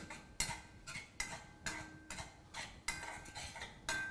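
A spoon stirs gram flour (besan) in a pan on low gas, making regular scraping clinks about twice a second, quiet and close, with no talk.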